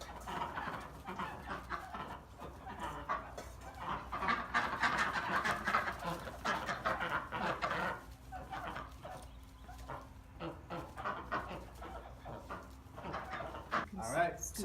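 Ducks on a central Texas farm are fed, calling repeatedly at close range in a restless, uneven chatter, with a person talking over the birds.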